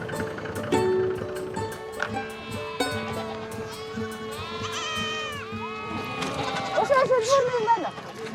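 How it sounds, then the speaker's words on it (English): Goats and sheep bleat repeatedly in the Mongolian mountains, a mix of wavering cries over a talking voice, growing louder and more clustered toward the end. "The adult goats and sheep are separated from their young so they can graze on the surrounding mountains."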